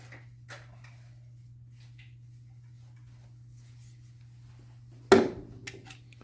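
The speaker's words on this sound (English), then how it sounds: "Now I'm going to get my tin snips to cut the rest." Straight cut tin snips bite through a metal lamp casing with one sharp, close snip and a short metallic rattle, following a long near-silent stretch over a low steady hum.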